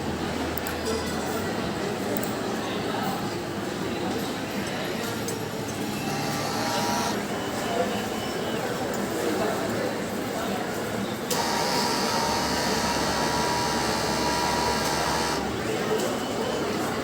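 A DTF printer runs a print head cleaning cycle, giving a dense, steady mechanical whir and hiss with shifting pump and motor tones. Someone speaks over the machine noise.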